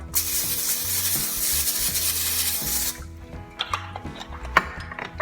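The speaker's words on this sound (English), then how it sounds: "I'm just gonna spray them with my olive oil cooking spray" A continuous hissing spray of olive oil cooking spray lasting about three seconds, followed by light clicks and handling noises.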